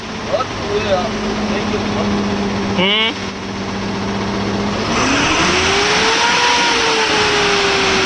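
An empty truck's engine runs nearby, holding a steady drone before its pitch climbs and wavers as it revs, with voices talking over it.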